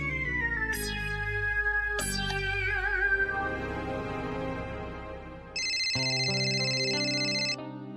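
A mobile phone ringtone plays as a loud electronic melody of sliding tones and chimes that changes partway through, with no voices over it.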